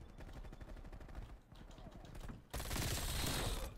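Gunfire in Call of Duty Black Ops Cold War, first a steady rapid stream of shots at moderate level, then a sudden, louder and harsher burst of firing that fills the final second.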